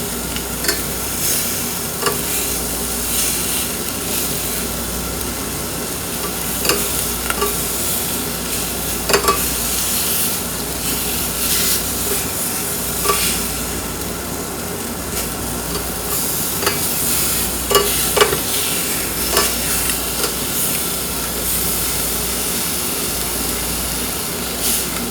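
Meat browning in a pot over turned-up heat for Japanese curry gives a steady, even sizzle with occasional brighter crackles and spatters, close and fairly loud, with no talking.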